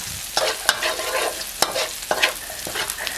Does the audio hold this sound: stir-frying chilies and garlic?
yes